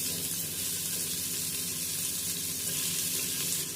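Vegetables and onion for a soya veg pulao fry in a pan with a steady, dense sizzle that holds at an even level throughout, close and continuous, with no talking.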